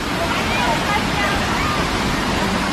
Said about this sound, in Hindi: यही झरना भर रहा है।